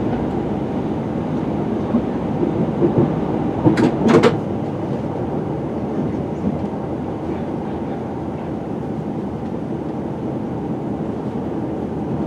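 Train pulling into Harrow-on-the-Hill station on the Metropolitan line in the Chiltern Hills, a steady rolling rumble with a brief metallic squeal or clank partway through, continuous and fairly loud with no talking.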